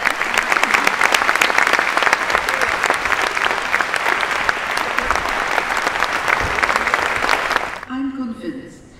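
A conference audience at a Soroptimist International gathering breaks into loud, sustained applause for the new president, the dense clapping cutting off near the end as a voice begins.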